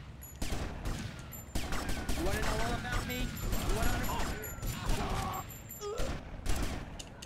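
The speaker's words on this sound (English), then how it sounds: "how y'all gonna let him just shoot at me?" Gunfire in GTA Vice City, with rapid crackling volleys of shots and clattering bursts across the whole stretch, loud and continuous, while someone talks excitedly over them.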